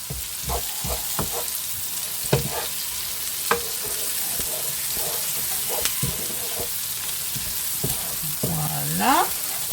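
Food frying in a pan: a steady close hiss and sizzle with scattered utensil scrapes and taps across the clip, and a brief rising whine near the end.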